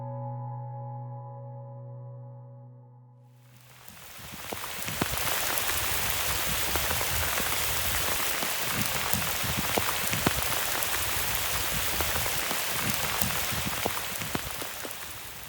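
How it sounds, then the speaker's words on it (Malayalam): Rain falls in the Wayanad forest after a short tonal hum fades out, then a dense, steady patter of drops on surfaces carries on at moderate loudness with scattered sharper hits and no voices. "മഴ ഉണ്ടിടോ തോന്നുന്നു."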